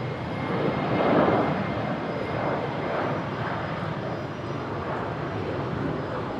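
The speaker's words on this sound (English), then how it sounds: "Qantas 619 rotating there," A Qantas airliner takes off at Brisbane Airport, its jet engines a broad, distant roar that swells and then holds steady as it rotates and climbs.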